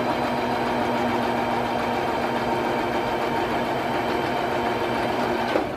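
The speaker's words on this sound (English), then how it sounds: "I'm just going to do a little bit of a back stitch each time" A sewing machine runs steadily, stitching fabric scraps for a runner, a continuous close mechanical whir and rapid needle rattle at constant speed, stopping abruptly at the very end.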